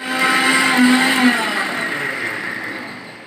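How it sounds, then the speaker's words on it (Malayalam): A mixer grinder whirs loudly and continuously as it grinds coconut with mustard seeds, a close steady motor drone that slowly eases in pitch and volume. "കടു ഇട്ടിട്ട് കുറച്ച് അരച്ചെടുത്തിട്ടുണ്ട്"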